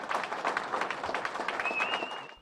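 Applause and gratitude from a gathered crowd for two fishermen who rescued an Indiana man trapped for days after a crash; dense, steady clapping fills the whole stretch, with a faint whistle-like tone rising near the end.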